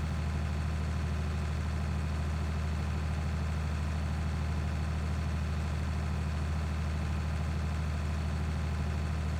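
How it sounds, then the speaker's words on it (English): In the Farming Simulator 19 video game, a larger tractor engine drones steadily as it climbs a hill, a constant low, moderately loud hum with no talking. "Thinking I should put the larger tractor on this now. Yeah, it's going up the hill at least."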